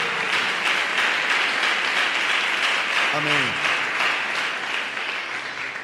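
A church congregation gives a round of applause during a live worship service, loud sustained clapping filling the room while a voice speaks briefly over it, fading slightly toward the end.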